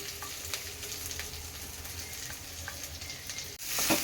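Green chillies and other ingredients fry in a pan for coconut rice, giving a steady, close, soft sizzle with light stirring scrapes that grows a little louder at the end.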